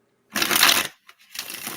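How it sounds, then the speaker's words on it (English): A deck of tarot cards being shuffled: two close bursts of crisp, riffling card noise, separated by a short pause with a faint tap, heard alone with no talk. "So while Hershe was shuffling, I already went ahead and pulled some cards"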